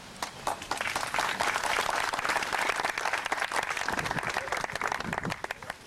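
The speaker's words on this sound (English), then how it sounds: "I think we'll hold our applause now until the end of my list." Applause from the crowd at the opening of the Blair Museum, a sustained burst of many hands clapping, close and lively, fading slightly toward the end.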